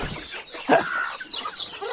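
Pet backyard chickens clucking, a few short, scattered clucks close at hand over a soft, steady background, with no one speaking.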